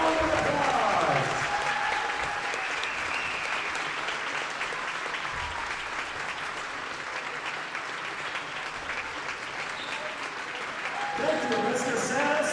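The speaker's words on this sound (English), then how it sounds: "Let's recognize Mr. Luther Sanis with a big round of applause" A gym crowd at a high school boys' basketball game between the Wahpeton Huskies and Fargo Davies Eagles applauds steadily for a longtime referee, with sustained clapping and cheering throughout and an announcer's voice rising near the end.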